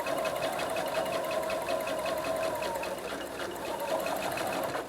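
A sewing machine stitches a zippered pouch with a steady, fast mechanical whir and needle chatter that runs close and continuous, slowing slightly partway through.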